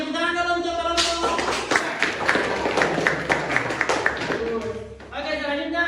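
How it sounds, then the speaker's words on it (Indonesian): Classroom applause for a student group, a burst of many hands clapping for about four seconds between stretches of a teacher's voice. "tepuk tangan dulu untuk kelompok"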